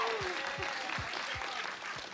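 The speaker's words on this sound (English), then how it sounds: "give him a round of applause" A church audience gives a round of applause, a dense, even wash of clapping from a crowd in a hall, with a voice briefly over it.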